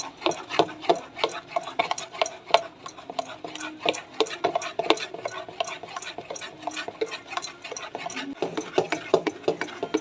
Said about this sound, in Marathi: आता चमच्याने आपण छान फेटून घेऊया एका बाजूनीच फेटायचं